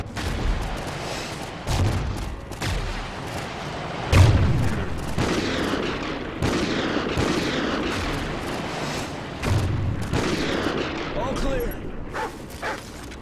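Gunfire in Call of Duty Ghosts, with sharp shots from a remote sniper rifle scattered over a busy battle bed of explosions, a barking dog and shouted voices.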